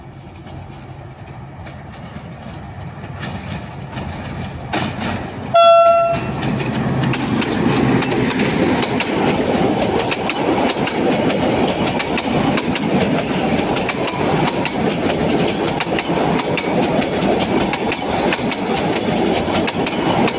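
Express train 1661, hauled by locomotive 77-102, arrives at Razlog station in Bulgaria. A brief horn blast rings out, then a loud, close, continuous rumble and rattle of passing wagons follows.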